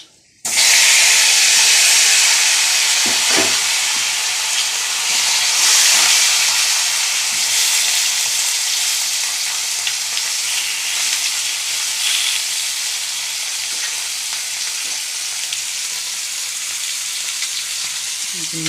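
Potato pieces and black cumin seeds hit hot oil with a sudden loud sizzle that settles into a strong, steady frying hiss, close and continuous throughout.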